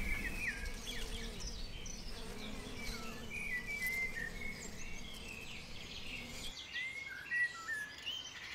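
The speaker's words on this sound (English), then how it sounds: "Honeybees." Honeybees buzz in a continuous low drone outdoors, mixed with bright bird chirps and calls scattered on top, steady and moderately faint, with no voices.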